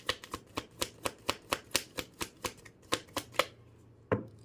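Tarot cards being shuffled by hand in a steady run of crisp riffling flicks, about a dozen quick bursts close by, ending after a short pause with one final snap.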